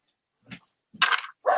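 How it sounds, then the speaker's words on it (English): Three short, sharp dog barks spaced apart, close by and moderately loud, with silence between them. "She's madly barking but wagging her tail at the dog."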